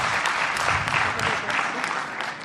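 Steady, fairly close applause from a crowd at a press conference where Prime Minister Trudeau announces affordability measures after a caucus retreat, continuous clapping throughout with slight surges.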